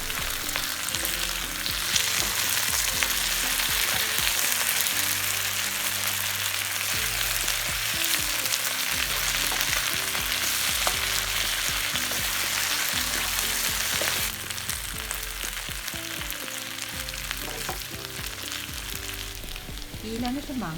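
Potatoes fry in hot oil while salt and chili powder are stirred in, a loud, steady sizzle and crackle running throughout with occasional scraping of the stirring spoon.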